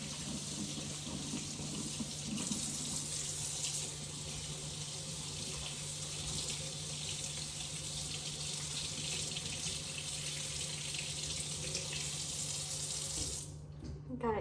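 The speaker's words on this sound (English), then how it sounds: "wash the ring off with water" A kitchen tap runs steadily into a sink while a ring is rinsed beneath the stream, a continuous close splashing hiss that holds for many seconds before cutting off near the end.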